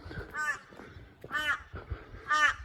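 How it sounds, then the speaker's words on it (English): Three harsh caws from a crow outdoors on a misty coastal morning, evenly spaced and fairly close, over quiet low background noise. "Bloody crow, I tell you what, be quiet."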